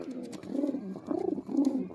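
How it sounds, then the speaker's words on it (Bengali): Pigeons of the Madras breed coo softly in a loft, a steady run of low, rolling coos repeating in close succession with faint background noise. "পায়রা দুটো দেখুন"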